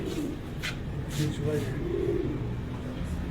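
Sialkoti breed pigeons cooing, low soft murmuring coos in a noisy outdoor setting with some broadband background noise.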